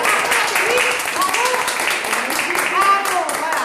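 Audience applause and scattered clapping at a live comedy show, a steady broadband patter filling the whole moment, with voices and cheers mixed in underneath.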